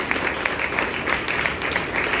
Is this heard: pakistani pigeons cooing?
no